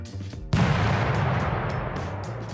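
Explosion sound effect triggered during a Unity game test: one sudden loud boom with a long rumbling tail that fades slowly, preceded by a brief low hum and nobody speaking.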